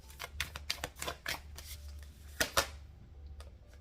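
A deck of tarot cards is shuffled in quick, crisp bursts of riffling and tapping, close and fairly quiet over a low steady hum, then tapering off near the end.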